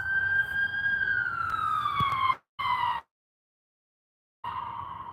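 A wailing ambulance siren, two ambulances, sweeps downward in pitch, loud and close, then cuts out abruptly before returning after a short silence.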